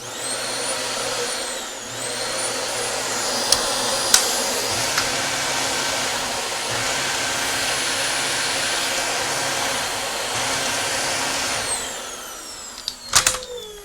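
A Dyson DC25 vacuum cleaner runs after its power switch was replaced, giving a loud, steady high-pitched motor whine and airflow roar. It spins up, holds for around ten seconds, then winds down, with a few sharp clicks and knocks near the end.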